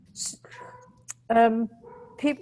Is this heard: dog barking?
yes